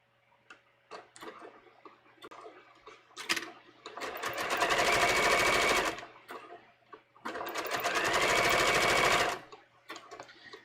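Sewing machine stitching a swimsuit crotch seam in two long sustained runs, the first about two seconds and the second about two and a half, with a pause and light handling clicks between, close and fairly loud.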